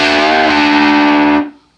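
Electric guitar with distortion playing a small quarter-step string bend, a loud sustained chord-like tone that shifts slightly in pitch early on, then rings out and is cut off.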